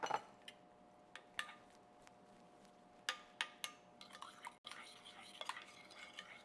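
A spoon stirs pizza sauce with minced garlic in a bowl, clinking against the sides in quiet, irregular taps and scrapes. The stirring sounds close and soft, with no voices over it.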